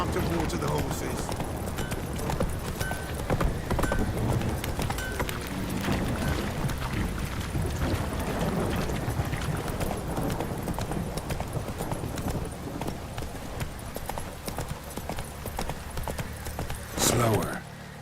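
Horse hooves in The Witcher 3: Wild Hunt clop in a steady running rhythm that keeps going throughout, with a voice speaking over them now and then.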